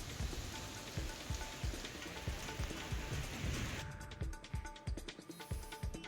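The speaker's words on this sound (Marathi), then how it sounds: "जालन्यात विजांसह पावसाने हजेरी लावली." Heavy rain from a thunderstorm in Jalna pours down as a dense, continuous hiss, with sharp drops striking hard surfaces close by throughout.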